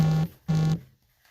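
A mobile phone vibrating twice in two short buzzing bursts separated by a brief pause, close and fairly loud, then quiet.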